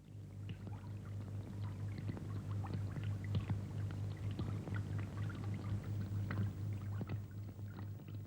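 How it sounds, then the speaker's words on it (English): Water leaking through several valves into the command area of a WWII U-boat, a steady near hiss and splash with scattered drips and gurgles over a low constant machinery hum. "The crew now turn to deal with the water that is starting to leak through a number of valves into the command area."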